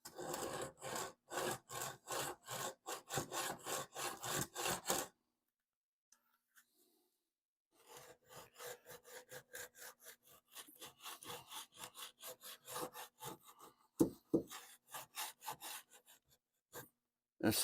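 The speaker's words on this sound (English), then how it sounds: "Got some wore out 40 grit. That should be good for the initial grind down." Hand sanding of body filler on a car quarter panel with worn 40 grit abrasive, rapid rhythmic rasping strokes in close bursts, broken by a pause of a few seconds, then slower, scattered strokes.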